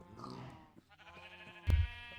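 Sheep bleating in the Minecraft video game, a short in-game farm-animal call heard against steady game music and ambience, with a louder burst near the end.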